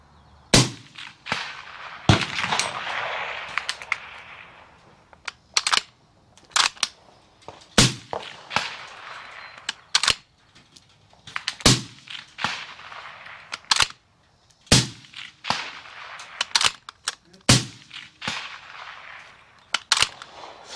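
Rifle shots from a Uintah Precision UPR-15 in .223, sharp close cracks spaced several seconds apart across a quiet range, each with a short decay.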